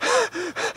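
A person gasps for breath in three short, strained, ragged gulps of air, close and alone, in a dramatic film scene of someone struggling and unable to breathe.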